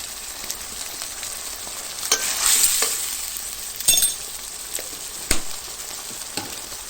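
Vegetables stir-frying with canned fish in a pan, a steady broadband sizzle broken by several sharp scrapes and clacks of a spoon stirring, close and fairly loud with no talking.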